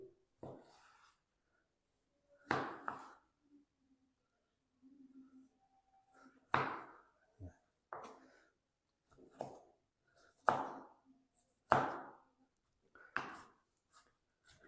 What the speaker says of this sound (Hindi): टमाटरों को चॉप कर लिया है